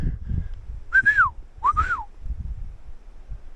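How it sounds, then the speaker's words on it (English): A marmot perched on a rock in Colorado high country gives two clear, loud whistled squeals about half a second apart, each a rising-then-falling tone, over low outdoor wind rumble. "there's a whistle pig over there squealing at us, right on that rock"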